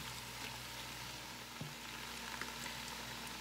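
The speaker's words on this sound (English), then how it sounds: "So now my onions have been cooking in with my meat for about 3 minutes." Onions and beef fry together in a pan for a ramen beef and broccoli dish, a faint, continuous sizzle with a few soft ticks and bumps.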